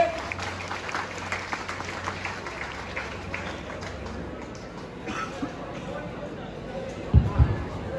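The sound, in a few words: crowd applause at strike rally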